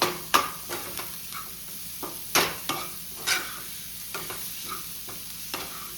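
A spatula stirs and scrapes through salted ingredients in a pan while making egg bhurji, giving a string of irregular, fairly close scraping knocks over a faint background hiss, with no talking.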